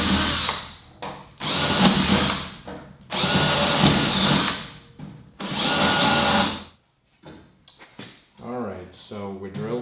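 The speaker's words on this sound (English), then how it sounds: "we drilled where we wanted, we didn't drill where we didn't" A power drill runs in three loud close bursts of about a second or more each on a Land Rover Series 3 seat box, separated by short pauses, followed by a few quieter knocks and a voice speaking.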